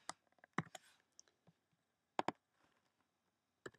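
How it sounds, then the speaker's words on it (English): Typing on a computer keyboard comes as scattered bursts of close, crisp key clicks with irregular pauses between them, fairly quiet. "now I'm typing this in text"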